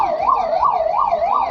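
An ambulance siren wails continuously during a hospital mock drill in Jharkhand, rising and falling in a fast, even cycle of about four sweeps, loud and close, with no voices over it.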